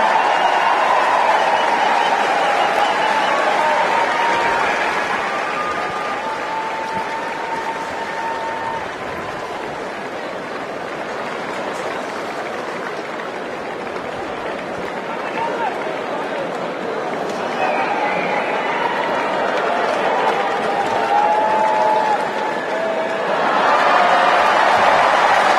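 A crowd at a Wimbledon tennis match applauds, a long wash of clapping and murmur that dips in the middle and swells again toward the end, heard in a large open setting with some voices mixed in.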